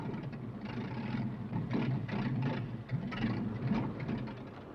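An aircraft engine fails and dies in a 1960s television drama, a rough, rumbling drone with sputtering surges that rise and sag over a few seconds.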